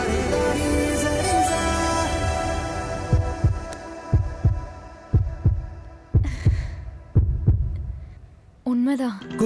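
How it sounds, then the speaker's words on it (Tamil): Heartbeat heard during a scene in a Tamil-dubbed film, a series of deep, thudding beats in an irregular rhythm over a droning musical hum, ending in a brief burst of other sound. "சரி, உங்க ஹார்ட் பீட் நான் கேட்கலாமா?"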